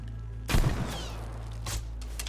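Gunfire in the video game Call of Duty: Black Ops Cold War: a sudden loud burst of shots cuts in over a low droning hum, followed by a second sharper shot a moment later, with no speech.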